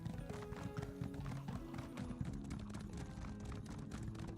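Horse hooves gallop in a steady clip-clop rhythm in Elder Scrolls Online PvP in Cyrodiil, a dense run of quick, even footfalls that holds close and moderately loud throughout.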